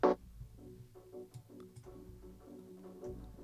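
A jungle drum break sample with shifting rhythms, smeared through convolution reverb into a dense, murky wash of hits. Transients land irregularly, opening with one sharp loud attack.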